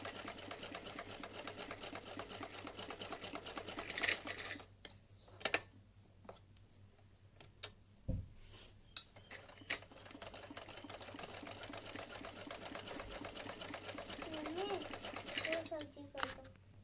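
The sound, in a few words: sewing machine stitching lace onto a dhoti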